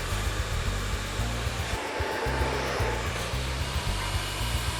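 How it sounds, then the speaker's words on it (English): A hair dryer fitted with a concentrator nozzle blows steadily with a constant motor hum and rushing air, close by, briefly dipping once before resuming. "So again, utilizing the director on the dryer."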